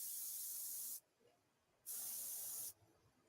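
An airbrush loaded with Copic marker ink sprays in two bursts of bright steady hissing, each just under a second long, with quiet pauses between them.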